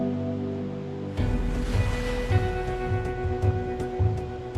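Ocean waves break at sea with a steady roar of surf and rhythmic surges, loud and close, with no voices.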